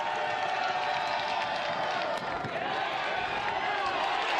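Baseball crowd at a college game between South Carolina and NC State, a steady roar of cheering and clapping from fans on their feet, dense and continuous throughout.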